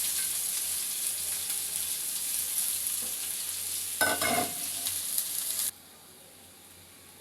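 Onion fries lightly in oil with a steady, soft sizzle and occasional stirring scrapes, close and fairly quiet, cutting off abruptly near the end.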